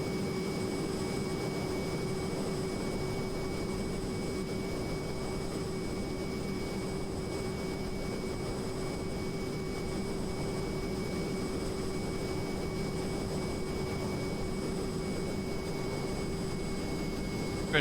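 A Hawker Hunter jet engine in Microsoft Flight Simulator drones as a steady, unbroken roar that stays at an even loudness throughout, with no voices over it.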